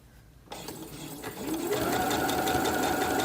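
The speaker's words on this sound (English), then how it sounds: "You want to sew as close to this part as you can, as close to the top of the hem." A sewing machine stitches a sleeve hem, starting abruptly after a brief quiet moment and settling into a steady, fast, continuous whirring run that grows slightly louder and holds close up.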